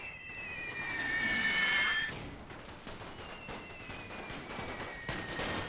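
Rifle infantry and conscripts trade fire at a distance on a World War One battlefield in a Total War strategy game, a steady patter of crackling shots under a long high whine.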